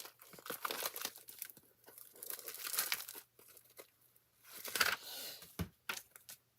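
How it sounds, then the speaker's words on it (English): A new pack of envelopes being opened at a papercraft table, giving bursts of crinkling and tearing plastic wrapper with scattered rustles and small taps, close and fairly quiet. "let me open a new pack of envelopes"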